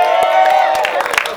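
Applause and cheering from an audience at a film press conference for "Jodoh 3 Bujang": a dense, loud wash of clapping and shouts that continues steadily throughout, with a voice rising above the noise.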